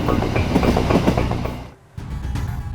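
A train rolls past on railway tracks in East Java, its wheels clattering in a steady clickety-clack. The sound is close and loud, dips briefly near the end, then carries on.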